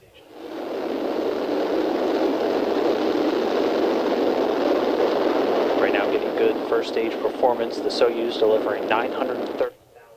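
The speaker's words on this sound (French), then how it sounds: "Et décollage du Soyouz TMA-13M vers la Station spatiale internationale." A Soyuz rocket carrying the TMA-13M crew lifts off with a broad, steady roar toward the International Space Station, while a voice talks over the rumble in the later seconds.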